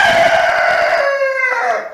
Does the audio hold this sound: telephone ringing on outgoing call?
no